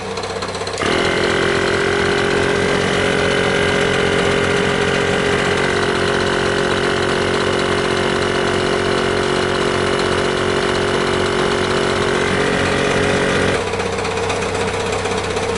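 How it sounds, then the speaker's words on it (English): A portable tire inflator compressor from a jump starter buzzes and rattles loudly with a steady droning hum, starting abruptly and running continuously before cutting back to quieter noise. "once I start the compressor, it should bump it up and you should be able to hear it"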